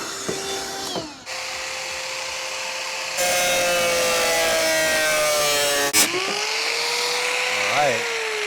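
A large drill bit bores through the underside of a Subaru STI hood with a steady high whine that rises in pitch partway through, stopping near the end; people talk nearby.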